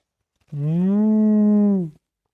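A cow gives a single long, steady moo, close and clear, lasting about a second and a half against silence.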